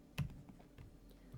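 A single press of a computer keyboard key during a screen-drawing demonstration, heard as one soft, brief click close by, followed by faint small taps against a quiet background.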